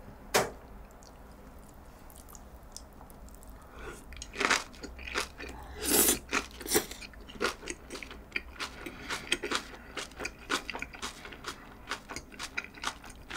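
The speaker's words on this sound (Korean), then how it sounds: "둘둘 싸서 먹어볼게요" Someone chews wrapped bossam with kimchi up close, with wet crunchy bites in an irregular rhythm that grows busier after a quiet start and carries no talking.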